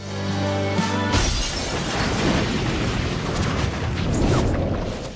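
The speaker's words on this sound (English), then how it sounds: "the bomb exploded prematurely while he was carrying it, resulting in Dylan's tragic death in an explosion" A bomb detonates in a Grey's Anatomy hospital scene, a loud sudden blast breaking a held tone, then a long roaring, crackling burst of debris that fills the remaining seconds.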